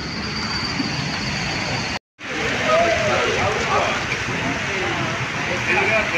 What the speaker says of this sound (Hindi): आज सही बारिश है